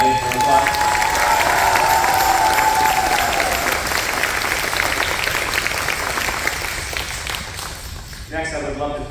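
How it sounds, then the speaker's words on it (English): An audience at a school spring concert gives loud, sustained applause with some cheering, the clapping slowly thinning toward the end as a voice returns on the microphone. "So if you could give my family and our family an applause."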